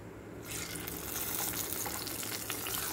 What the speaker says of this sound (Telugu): ఆయిల్లో కొంచెం ఫ్రై చేసుకుందామా. ఫ్రై అవుతున్నాయి చూడండి.